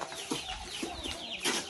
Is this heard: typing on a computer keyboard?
no